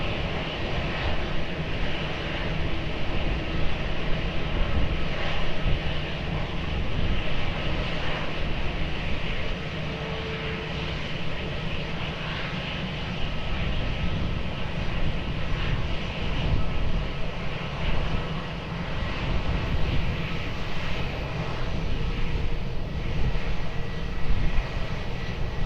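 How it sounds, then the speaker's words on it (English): Airbus A320neo jet engines roar at Lisbon Airport. A steady, broad rumble holds for the whole stretch at a moderate distance, with no voices over it. "Airbus 320neo will line up for departure"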